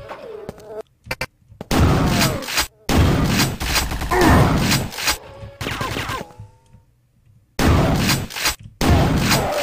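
Turret gunfire in the shooter game Quake 2 Ground Zero: loud, close bursts of repeated shots arrive in several separate volleys with short silent gaps between them.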